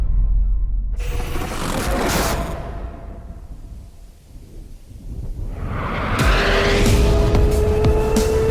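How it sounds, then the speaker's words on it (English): Hyundai RN22e electric race car tearing through corners, a loud rushing whoosh with squealing tires and a rising electric whine that swells, dips briefly, then roars back close by; no voices. "N-specific regenerative braking allows the RN22e to precisely control yaw and attack corners like never before."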